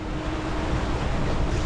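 Sailboat beating close-hauled through short, choppy waves on passage toward Gaspé, with a continuous rush of water and wind buffeting the microphone and a low, rumbling wash under the hull.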